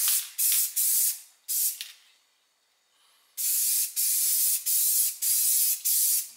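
A spray gun puts paint onto the front end parts of a 1968 Pontiac GTO A-body: close, loud hissing bursts in a steady on-off rhythm, a short pause, then a run of evenly spaced passes.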